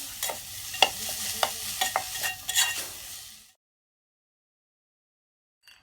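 Turmeric, tomatoes and mashed brinjal stirred together in a pan for smoky aubergine, with a spoon scraping and clacking in irregular strokes over a soft sizzle, close and clear, then silence.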